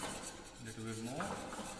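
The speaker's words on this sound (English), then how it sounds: "we have to keep it stirring with a whisk" A whisk stirs a thin sauce in a metal pot, making quiet, quick scraping and rubbing strokes against the pan, faint and brief with no voices.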